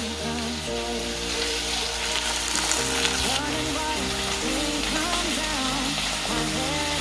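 Onions hit a hot pan of browning chicken for chicken cacciatore, giving a dense, continuous close sizzle that runs throughout, with soft tonal music beneath and no voices.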